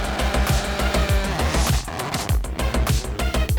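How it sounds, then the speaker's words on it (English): A rally car engine revs hard and climbs through the gears with repeated rising sweeps, loud and close, with brief tire noise and gravel spray between shifts. "Some acceleration, huh?"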